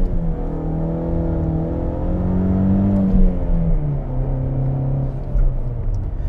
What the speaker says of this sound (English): So I'm gonna launch it right here.